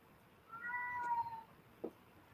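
A pet cat meows in a drawn-out, wavering cry lasting about a second, wanting to go outside, followed by a brief fainter chirp; quiet indoor background, no talking.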